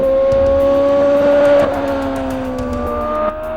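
Formula One race cars from 1999 circle a track with a loud, sustained engine whine that shifts pitch as they accelerate and pass, one car dominating nearby with others under it.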